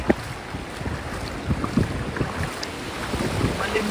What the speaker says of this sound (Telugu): గాయస్ మీరు చూసుకుని ఫ్లో ఎట్లా వస్తుందో.